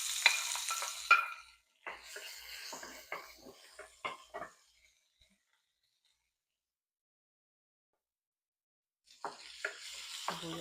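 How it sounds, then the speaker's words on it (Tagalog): Onions drop into hot cooking oil and fry in bursts of crackling sizzle with stirring clatter. The sound falls silent for several seconds, then the frying resumes. "Mabilis lang mag-init yung ating mantika. So, lagyan na natin yung ating sibuyas"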